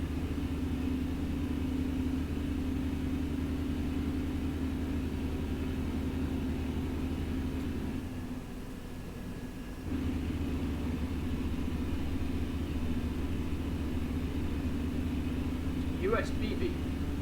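A truck engine in American Truck Simulator gives a steady, heavy low rumble on the open road, droning continuously and dipping briefly before returning at the same level.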